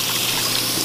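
Cold water trickles and splashes over a hot pressure cooker used for canning, a loud, steady close-up rush of running water with no voices.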